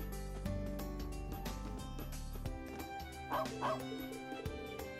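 Dog barking and yipping in the video game Trails of Cold Steel 3, with a few short barks over steady game music.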